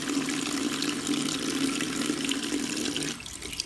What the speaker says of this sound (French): Et là, je reprends les pinceaux, donc un par un, et je viens dans la partie rinçage.